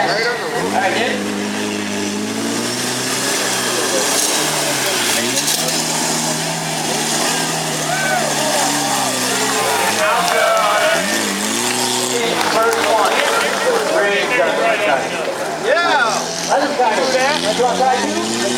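A monster truck engine revs hard and continuously while attempting two-wheel drive at an arena show, the loud roar rising and falling under an announcer's voice and crowd noise.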